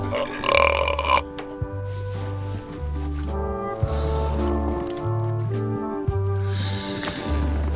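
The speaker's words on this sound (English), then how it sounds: "Hey, how about a burping contest?" A burping contest in the Return to Monkey Island video game: a series of long, deep, resonant belches, each held for about a second with short gaps, over faint background music.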